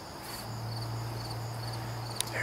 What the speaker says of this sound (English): You can hear the crickets.